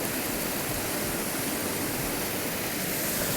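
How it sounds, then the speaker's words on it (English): Water running beneath a bridge, a steady, even rush of flowing water heard close by and alone throughout, with no voices. "Oh, you got the water running too?"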